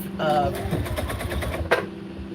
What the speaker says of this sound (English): I just gotta always stop to adjust to make sure that I'm sewing everything down right.